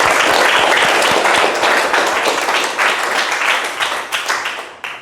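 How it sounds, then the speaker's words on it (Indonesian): Students in a classroom applaud together, a loud burst of brisk, crowded clapping that starts strong and gradually thins and fades toward the end. "Tepuk tangan untuk kita semua."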